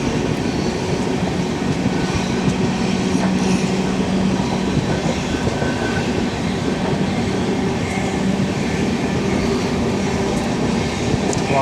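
Steady rolling rumble and rhythmic wheel clatter inside an AC 3-tier coach of the 12685 Mangaluru Super Fast between Chennai Central and Shoranur, loud and continuous throughout with no talk.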